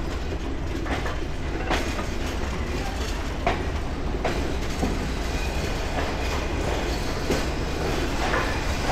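Padma Express passenger train on the Dhaka–Rajshahi line rolls through Harda Road station at night, a loud, steady close rumble with rhythmic wheel clacks throughout.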